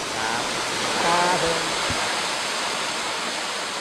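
Constant rushing roar of the Huai Luang waterfall in Thailand, loud and close, with a faint voice briefly audible under it.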